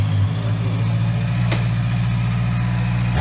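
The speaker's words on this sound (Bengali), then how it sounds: "can you turn on the engine" A Kawasaki 650cc four-cylinder motorcycle engine idles close by with a loud, smooth, steady low hum, broken by one brief click partway through, and no talk.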